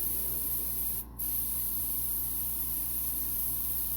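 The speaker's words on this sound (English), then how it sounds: "So with this ink wash, I'm spraying again the entire thing" Ink wash is sprayed from a spray bottle over a craft pumpkin, giving a continuous close, soft hiss with one brief gap partway through.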